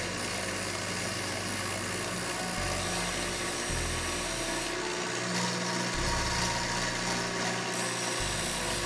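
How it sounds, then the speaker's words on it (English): Power sander working a wooden skateboard deck, smoothing rough edges and stripping glue: continuous loud abrasive whir and rasp with shifting pitch and pressure as the board is moved against it, no voices. "Now we take it to the sander and sand off all the rough edges and all the glue."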